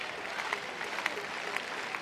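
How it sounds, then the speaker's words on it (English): A full-capacity baseball stadium crowd at an opening-night Banana Ball game clapping steadily, a dense, somewhat distant wash of applause with a commentator talking over it. "Now the full capacity crowd is clapping."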